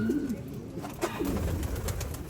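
A breeder pigeon hen gives two short, throaty coos, close by and soft, against a low room hum and light background noise.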